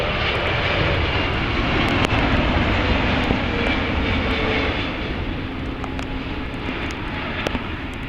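Boeing 777 jet landing at Montreal Trudeau airport in bad weather, a loud steady engine roar and rumble holding throughout and easing slightly toward the end.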